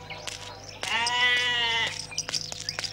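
A goat gives one long, quavering bleat, loud and close, with shorter animal cries and rustling noises around it and no talk.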